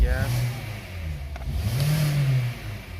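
A Hyundai Sonata or Kia Optima engine, just fitted with a new throttle body, revs up in two rising pulls, close and loud, with someone speaking briefly at the start.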